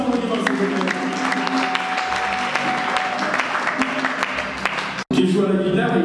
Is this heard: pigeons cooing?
no